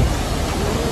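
A roadside waterfall on the way to Darjeeling rushes in a steady, broadband wash of falling water, close and continuous with no talking.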